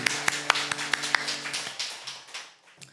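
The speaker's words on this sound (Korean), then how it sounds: "하나님께 영광의 박수를 올려드립니다." Hands clap rhythmically during a Salvation Army church revival service, a run of sharp claps that loosens into scattered applause and fades out.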